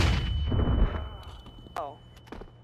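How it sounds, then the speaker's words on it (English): A flashbang grenade goes off in Counter-Strike 2 as a sharp game bang with a brief ringing tail, coming after a stretch of voices talking and followed by quieter in-game noise. "Throwing flashbang. Grenade out."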